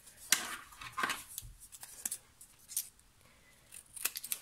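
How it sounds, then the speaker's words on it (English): Scissors snip paper for a stamped card in several quick, crisp cuts spaced irregularly, close and fairly quiet. "I'm just going to trim it down another little bit."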